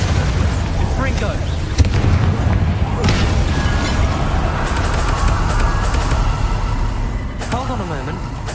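Confringo and Bombarda spells burst repeatedly in the Hogwarts Legacy video game, loud booming explosions and rumbling blasts layered over dense battle noise with a voice shouting throughout.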